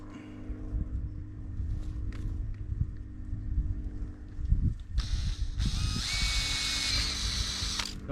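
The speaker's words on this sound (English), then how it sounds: "let's drill some holes" A power drill whirs up close for several seconds, drilling holes in a septic system pipe, rising into a higher, harsher whine as it bites, with rattling and clunks beneath.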